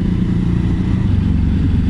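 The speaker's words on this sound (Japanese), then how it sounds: "大型バイク。" A 2016 Ducati Hypermotard 939 twin-cylinder engine heard close while riding on a public road, a loud continuous throbbing drone with rapid pulsing through the whole stretch.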